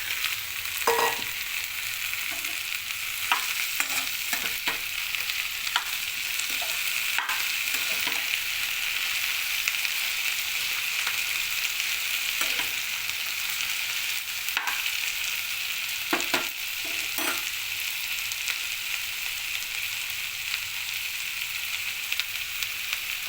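Ivy gourd curry with green chilli paste fried and stirred in a pan, continuous steady sizzling with scattered spoon scrapes and knocks throughout, close and even in level, no talk.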